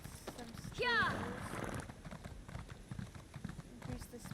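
A horse in the Elder Scrolls Online video game gallops with steady, close hoof clip-clop, and a short whinny rises early over the rhythmic beats.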